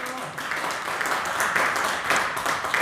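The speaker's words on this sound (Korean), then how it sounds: "김찬희 위원장에게 우선 일단 박수부터 보내겠습니다" Applause from a lecture audience for a speaker who has just finished a talk on farmers' basic income, a steady patter of many hands clapping at moderate loudness, held evenly for a few seconds.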